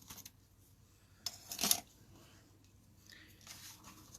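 Ribbon scissors are picked up and handled during a crafting class, giving a few faint metallic clicks and a brief sharp snip near the middle, quiet and close with no talking.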